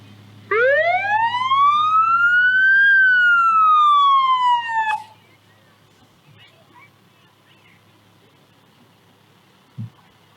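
A Seventh District fire engine's siren in a Christmas parade sweeps up and then winds down loudly and close for about five seconds, followed by quieter street noise and one short blast.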